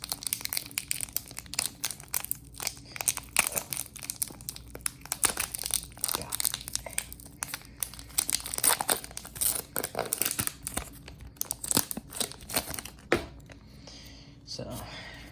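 Foil trading card packs are torn open and crinkled close up, with continuous crackling and rustling for the whole stretch, ending in softer handling.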